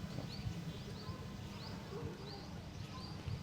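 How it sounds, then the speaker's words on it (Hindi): Small birds chirp faintly in the background, short high tweets repeating irregularly over a steady low outdoor hum, with no one talking. "चिड़ियों की आवाज़ सुनाई दे रही"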